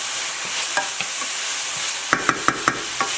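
Two teaspoons of garlic sauté in a warm skillet with a soft, steady sizzle, then a quick run of sharp utensil scrapes and taps against the pan near the end.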